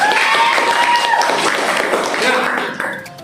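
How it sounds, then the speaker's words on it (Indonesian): A classroom of students applauds, a dense wash of clapping that runs steadily and then thins out at the end, with a voice speaking over it. "Luar biasa tepuk tangan."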